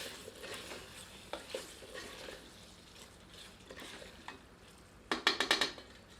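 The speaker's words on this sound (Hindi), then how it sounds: "एक बार अच्छी तरह करछी चलाते हैं।" Chicken curry for Kashmiri-style chicken rogan josh being stirred with a ladle in a pot, soft bubbling and scraping that ends in a quick burst of sharp metal clinks, close but fairly quiet.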